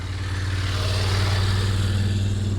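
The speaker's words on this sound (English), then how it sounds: "We're going to get overtaken by lots of motorbikes." Motorbikes overtake on an estate road at an adventure bike festival, giving a steady, loud engine drone with a low rumble that holds throughout without a clear pass-by peak.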